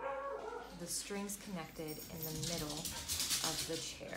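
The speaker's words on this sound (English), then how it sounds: "If you can hear my dogs freaking out about squirrels outside" Dogs fretting at squirrels outside, with whimpers and yips mixed under a person talking steadily over them.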